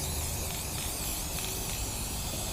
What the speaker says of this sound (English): while I spray paint the black metal